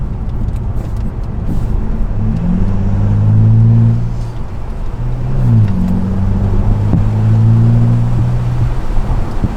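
A Mercedes E350 CDI Sport AMG estate in sports mode accelerates hard through two gears, its diesel engine droning low and steady inside the cabin with a shift between the pulls.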